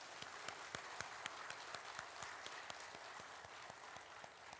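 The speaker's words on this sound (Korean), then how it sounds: "박수 한 번 더 합시다." A church congregation applauds during a Christmas service, steady dense clapping with sharp individual claps standing out, sustained and fairly even throughout.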